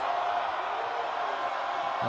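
Basketball arena crowd at a FIBA World Cup Asian qualifier, Iran versus the Philippines, keeps up a steady, dense roar of murmuring and shouting voices that neither swells nor fades.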